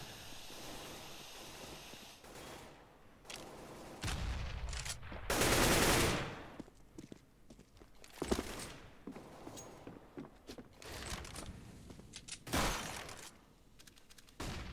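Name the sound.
gunfire in a Counter-Strike style video game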